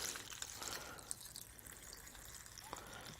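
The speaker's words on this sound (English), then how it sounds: "top this up with 1 litre of alcohol, which is methylated spirits" Methylated spirits being poured to top up a container with a litre of alcohol, a soft, continuous liquid trickle with faint drips, quiet and close, with no talking.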